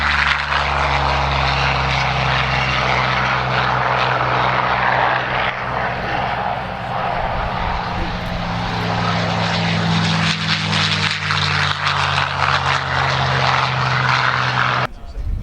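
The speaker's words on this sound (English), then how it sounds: "Scotty Taverner in the Spitfire, followed by Paul Bennett in the P-40 Kittyhawk" Spitfire and P-40 Kittyhawk warbird propeller planes fly past in formation at an air show, a loud continuous roar of piston engines swelling and shifting as they pass, with voices talking underneath.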